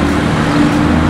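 A Porsche 991.2 GT3 goes by with a steady, loud engine tone that holds evenly through the short clip and has no clear rise or fall.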